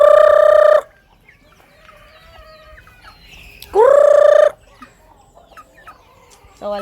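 Native chickens give loud, drawn-out calls in two clear bursts, with a third starting at the end. Quiet pauses with faint background noise fall between them.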